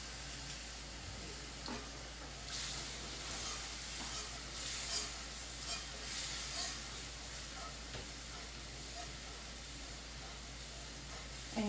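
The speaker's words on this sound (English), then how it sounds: "So now I'm going to slowly add in my milk." Milk slowly poured and whisked into a cooked white roux in a pan on the stove, a steady low sizzle and bubbling with soft intermittent whisk scrapes and liquid splashes throughout, close and fairly quiet.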